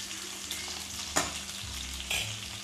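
Slit green chillies frying with sautéed onion over low gas for lasuni methi, a soft continuous sizzle with a few sharp stirring scrapes, close and alone.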